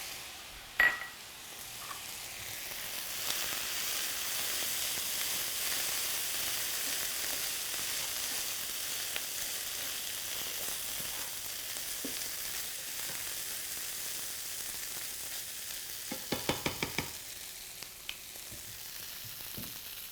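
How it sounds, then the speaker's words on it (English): Canned hominy sizzles and fries steadily in a hot pan for a long stretch, with a sharp clunk near the start and a cluster of spoon clinks against the pan toward the end. "So I'm going to add my half a cup of canned hominy."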